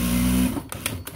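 A Juki DDL-8700-7 industrial sewing machine stitches heavy canvas in a short, close burst of steady motor whir, stopping after half a second and followed by a few sharp clicks of the automatic thread trimmer.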